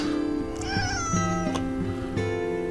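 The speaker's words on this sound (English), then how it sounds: "I have a cat." A domestic cat meows repeatedly in a French chateau, several drawn-out, tonal cries sliding up and down in pitch, close and clear over a faint steady background.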